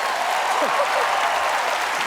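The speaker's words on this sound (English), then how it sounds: "juggling fire always gets a nice round of applause" An audience in a television studio applauds after a fire juggling act, a dense, steady wash of clapping that carries through the whole stretch with a faint voice underneath.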